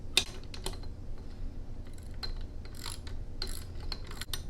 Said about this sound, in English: This is a 9/16 socket and wrench.